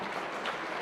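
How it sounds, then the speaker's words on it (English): An awards-banquet audience applauds at an association membership awards event, a soft, even wash of many hands clapping, distant and fairly faint throughout. "Give her a round of applause."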